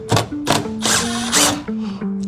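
Bursts of a power tool, likely an impact driver or drill, spin up and stop several times while side bolts come out of a wrecked 2024 VW GTI, loud and close with short pauses between runs.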